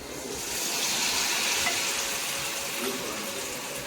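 Chapati pieces coated in cornflour batter drop into hot oil, giving a steady bright sizzle and crackle of frying, fairly quiet and continuous with light clinks of a spoon.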